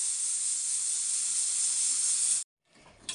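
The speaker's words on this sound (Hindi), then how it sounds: "सो यहाँ पे प्रेशर देखिए अब रिलीज हो चुका है पूरा हमारे दाल का।" A pressure cooker vents steam after cooking dal for dal palak, a loud, steady, high hiss that holds for over two seconds and then cuts off abruptly into near silence.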